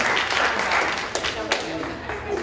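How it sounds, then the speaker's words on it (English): Short round of audience applause at a talk, a dense wash of clapping that tapers off within a couple of seconds, with a voice speaking over it. "Give them a round of applause"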